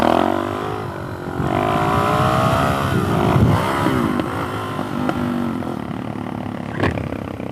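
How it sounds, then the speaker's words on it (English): A motorcycle engine revs hard for a wheelie, rising and falling through several loud, close throttle surges that hold at high pitch before easing off, with no voices. "let's see if I can do a wheelie for these kids"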